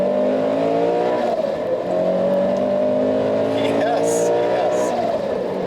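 A modified Subaru BRZ sports car accelerates hard on city streets, its engine droning loud and close with rising pitch through the gears, heard from inside the car.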